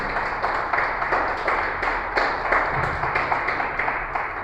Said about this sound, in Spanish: Apláudele al Señor